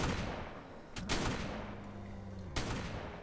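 Gunfire in the video game Ark, with sharp bursts of shots around one and 2.5 seconds over a continuous rumbling, cluttered game soundscape; a faint steady tone runs underneath in between.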